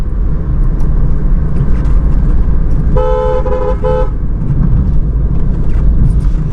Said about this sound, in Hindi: सबसे पहले एक बार इसको हॉर्न दे देंगे